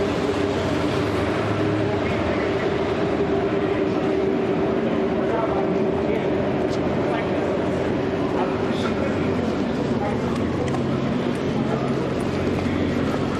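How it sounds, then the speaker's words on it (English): A train rumbles through a cavernous underpass on a West Philadelphia street, making a continuous, loud, dense roar that holds steady for the whole stretch. "it was loud back there for a moment as the train was going through"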